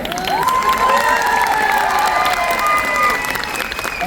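Loud crowd applause and cheering at a Modicare community event in Baroda, dense steady clapping with excited shouts and whistles throughout, close and sustained.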